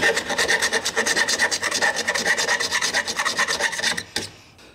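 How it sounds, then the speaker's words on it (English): Hand file rasping burrs off a freshly made metal license plate bracket for a Jeep JL Wrangler, with about twenty quick rhythmic strokes, close and loud, then stopping abruptly, no talk. "I'm going to take a file and file them off."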